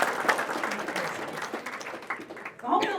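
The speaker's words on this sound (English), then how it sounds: "One more round of applause to Jan." Audience applause at a Home Builders Association Foundation Vegas Night awards event, a steady wash of clapping from a crowd with some voices mixed in, swelling again near the end.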